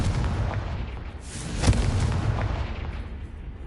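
A Confringo fire spell exploding in the Hogwarts Legacy video game, a dense rumbling blast with a sharp crack in the middle over continuous roaring noise, loud and alone.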